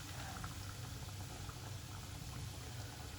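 Aloo samosas deep frying in hot oil, a steady dense bubbling sizzle that holds evenly throughout without pause, close and moderately quiet, with no voices.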